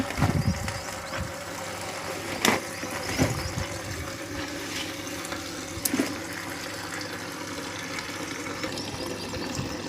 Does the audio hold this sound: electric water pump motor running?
yes